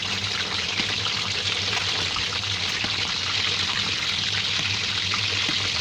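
Steady, loud hiss and crackle of hot oil being spooned over frying Hong Kong-style chicken, continuous and close without a break.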